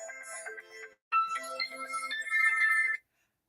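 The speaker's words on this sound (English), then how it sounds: "I'm getting a phone call as we speak" An incoming phone call plays a melodic ringtone, a short bright phrase, a brief gap, then a longer tune, fairly close and clear with no talk over it.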